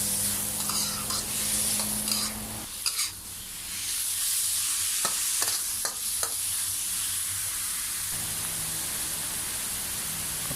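Chicken hearts stir-fry with fresh chili in a pan after a splash of water, a continuous close sizzle punctuated by scattered utensil scrapes and taps, with the hiss softening partway through; no voices.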